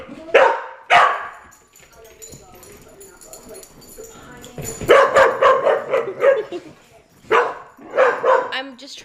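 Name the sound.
dogs barking while playing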